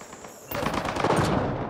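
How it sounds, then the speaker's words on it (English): Turret gunfire in the video game Mass Effect Andromeda, where a steady hiss suddenly gives way to a loud, sustained burst of rapid automatic fire. "Turn those turrets on Meriwether's men"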